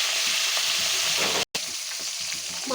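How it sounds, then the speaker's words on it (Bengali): Fish pieces fry in hot oil in a pan, a dense continuous sizzle close up with faint stirring scrapes and a brief dropout midway, no voices. "মাছগুলোকে ভেজে নিচ্ছি।"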